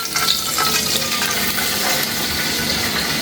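Whole cloves and cardamom hit hot ghee and sizzle steadily in a pan, a loud continuous hiss and crackle throughout, with no voices.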